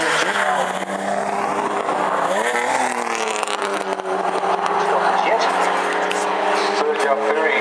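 A race car lapping a circuit, its engine a loud continuous drone that rises and falls slightly as it runs, with a commentator talking over it throughout.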